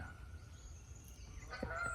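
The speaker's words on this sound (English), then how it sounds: "Those geese are circling my pond." A couple of geese circling over a pond honk in the distance, a few short calls near the end over a low steady rumble of wind and background noise.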